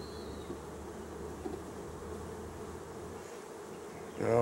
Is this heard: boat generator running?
no